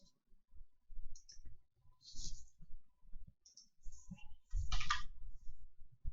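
Computer mouse clicks sound close and crisp in scattered single and double taps, with soft desk handling noise between them.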